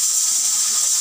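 A pressure cooker whistles while cooking rice, a steady loud steam hiss running unbroken and close through the whole moment.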